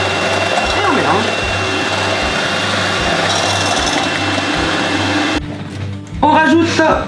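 An electric mixer beats persimmon mousse with muscovado sugar, a steady close motor whir with a rhythmic pulsing hum, briefly dropping away before a voice speaks near the end.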